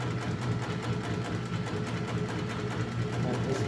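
A PFAFF 545 H4 industrial sewing machine stitches military-type canvas, a quiet steady mechanical hum with a fast repetitive needle rhythm running throughout.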